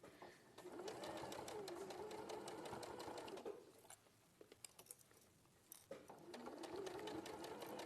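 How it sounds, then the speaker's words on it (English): A sewing machine stitches a quarter-inch seam in bursts, a close rapid whirring run that stops for a moment of light clicks and handling noise, then starts up again. "we're sewing it at about 1/4 of an inch seam round here"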